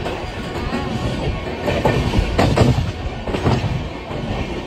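Jan Shatabdi Express train running just after leaving Tenali Junction, heard as a steady loud rumble with clicking wheel rhythm and occasional metallic squeals, with no voices.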